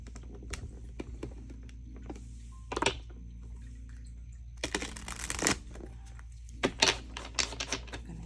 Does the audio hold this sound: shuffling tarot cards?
yes